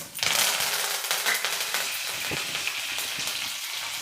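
Curry leaves drop into hot oil with a sudden loud burst of crackling and spattering that settles into a steady sizzle, close and with no talking.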